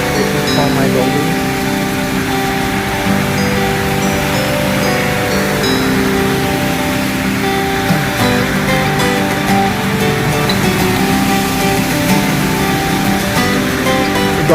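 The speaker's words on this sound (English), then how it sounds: "Yeah, it's raining." Rain falling in Sharjah, UAE, heard as a continuous loud wash of water and splashing with a faint engine-like hum under it, steady throughout.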